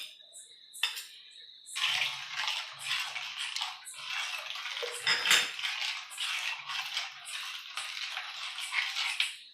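A spoon scrapes and clinks steadily against a metal vessel while tender coconut payasam with sugar, crushed cardamom and roasted cashews is stirred, close and continuous, with no talking.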